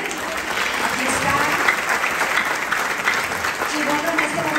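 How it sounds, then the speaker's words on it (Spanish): Dense, steady audience applause at a Mexican Independence El Grito 2024 ceremony held by the Mexican Consulate in Brownsville, sustained and fairly loud for the whole stretch without a break. "Un aplauso también."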